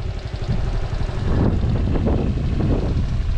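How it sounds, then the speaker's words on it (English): Wind blasting past a microphone while riding a Postie motorbike on a country road, a loud, continuous low buffeting roar that swells slightly and keeps going throughout. "It's pretty windy up here."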